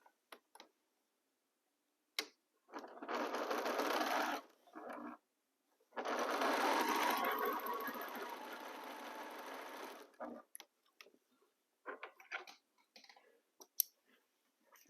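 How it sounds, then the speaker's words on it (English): A sewing machine stitches fabric pieces for a quilt row in two quiet runs, one short and one longer, separated by a pause, with small clicks before and after. "I line up here my pieces and start sewing"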